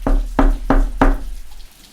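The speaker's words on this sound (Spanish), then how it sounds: "cuando llama a la puerta" Four firm knocks on a house door, evenly spaced and close, ringing out sharply before the sound falls away into quiet.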